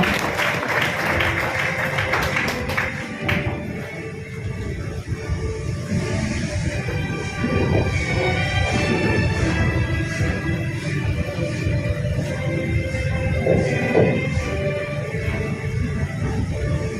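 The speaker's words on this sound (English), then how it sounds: "let us give a warm round of applause for Mr. Nelson S. Quintón" Clapping rises at a junior high school moving-up ceremony in honour of Mr. Nelson S. Quintón, a steady mid-level patter of applause that keeps going for many seconds, with some scattered background noise.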